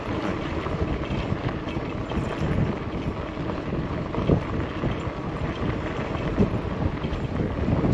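Strong wind buffets the microphone on a trail beside water, a steady rumbling roar with gusty swells throughout and no voices.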